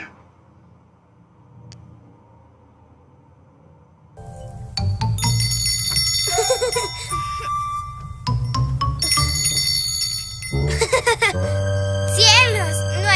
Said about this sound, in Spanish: ¿Sería Santa Claus quien tocó las campanas?